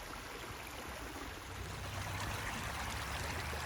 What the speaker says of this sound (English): I guess this is a creek crossing.